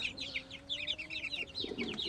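Young chicks being raised on a farm chirp and cluck in quick, high, overlapping bursts close by, with a faint low hum running underneath and no talking.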